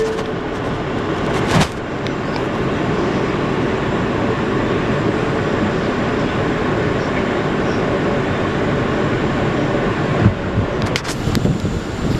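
An R179 subway train on the A line rolls along from inside the car, a steady rumbling rush of wheels and air with a couple of brief sharp clanks, no talking.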